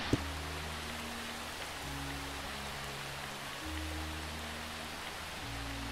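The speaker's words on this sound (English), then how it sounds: "The rain is hammering down." Heavy Minecraft rain falls as a steady, even hiss that fills the whole stretch, with low tones droning faintly underneath and no speech.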